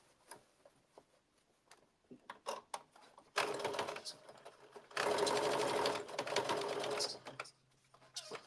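A sewing machine stitches a 5/8-inch seam on a blazer in short bursts, then one longer steady run of whirring, amid quiet handling clicks and bits of talk.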